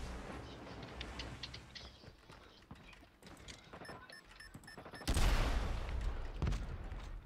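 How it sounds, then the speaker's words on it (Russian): Enemy gunfire aimed at the players in the Call of Duty Mobile video game, a scatter of quick shots that bursts louder and denser partway through, with game noise around it and no talk. "По нам стреляют."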